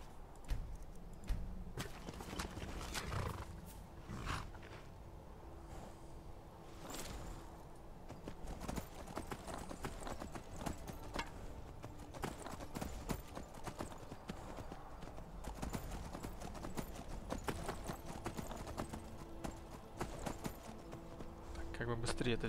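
Horse hooves gallop steadily in Skyrim, a continuous run of close clip-clop beats over game ambience, with someone speaking at times over them.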